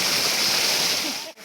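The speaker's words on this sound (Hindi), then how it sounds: "ये जुंगैल का एक फेमस वाटरफॉल है जो बिल्कुल पहाड़ों के बीच में है।" Jugail waterfall among the hills of Sonbhadra, a loud, steady rushing wash of falling water that dips briefly near the end.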